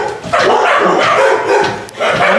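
Dogs bark repeatedly and loudly up close, overlapping yaps and yips that continue with hardly a pause.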